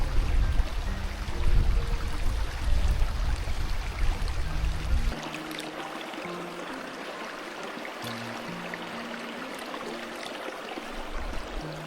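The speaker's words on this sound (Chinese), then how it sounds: "听一下水流的声音。" A river stream in Iceland's mountain landscape flows steadily with a broad rushing, gurgling wash, louder and fuller in the first half and then a softer, even trickle, with faint tonal hum underneath.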